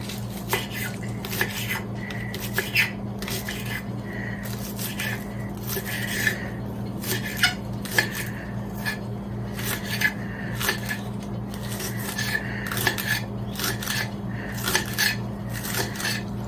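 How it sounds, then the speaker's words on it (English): A knife chopping scallion and onion on a board for ackee and saltfish, close, sharp repeated taps in uneven bursts over a low steady hum, with brief pauses between runs of cuts. "The scallion and onion is washed, so I'm just gonna cut them up because I'm gonna fry up the ackee and the saltfish."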